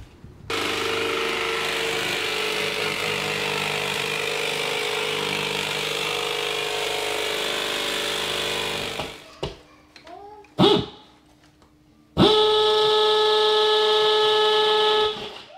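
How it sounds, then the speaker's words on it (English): Drilling through an exterior wall of a house with a concrete bit and then a wood bit: a loud, steady grinding drone for about nine seconds, a few short knocks and bursts, then another strong sustained run of the drill. "what we ended up doing was concrete to get through um, the exterior wall and then we hollowed it out and put a wood bit on there and drilled through"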